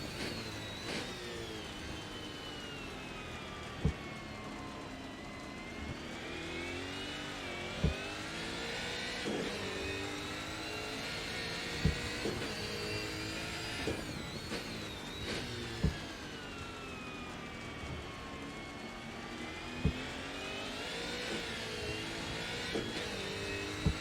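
A V8 Holden Commodore touring car racing in the wet at Bathurst in Assetto Corsa, its engine revving hard and climbing through the gears, with sharp gear-change cracks at regular intervals and no talk.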